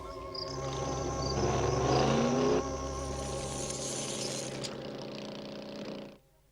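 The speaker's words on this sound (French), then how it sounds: "le moteur est trop fatigué" A tired van engine in a French cartoon revs loudly and strains, then settles into a steady running drone before cutting out abruptly near the end.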